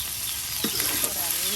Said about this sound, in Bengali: এই যে এখন বাটা মশলা দেওয়া হচ্ছে, রসুন বাটা পেঁয়াজ বাটা দেখুন কিছু পরিমাণ দেওয়া হলো।